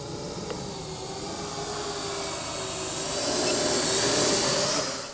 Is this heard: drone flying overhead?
yes